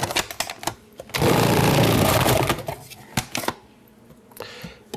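A food processor grates potato and onion in a loud whirring burst lasting a second or so, with clattering knocks before and after as pieces are fed in and a voice talks over it.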